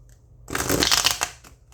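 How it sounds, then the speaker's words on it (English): A tarot card deck is shuffled close up, a quick riffling flutter of cardstock that builds and then tapers off over about a second, followed by a couple of light taps. "This shuffle is exquisite."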